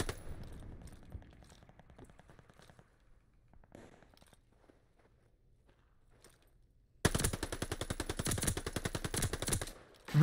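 Gunfire in a Call of Duty Vanguard beta multiplayer match: scattered, quieter shots at first, then a loud, sustained, rapid machine-gun burst that runs for about three seconds before stopping abruptly. No talking.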